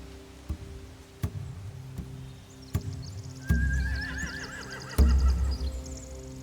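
Horses neigh and whinny in The Walking Dead video game, with loud, close whinnies at about 3.5 and 5 seconds, each with a rising-falling wavering call, over an ambient game background with scattered sharp ticks.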